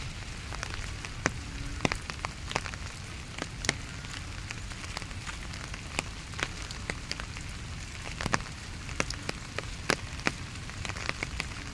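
Rain patters steadily outdoors in a park, with scattered louder drips and taps from drops hitting nearby surfaces, fairly quiet and continuous with no talking.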